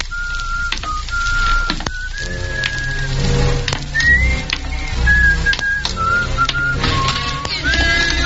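A man whistles a tune in an old-time radio mystery drama. Clear, sustained whistled notes rise and fall in short phrases over a soft background with a low hum, and no talking is heard.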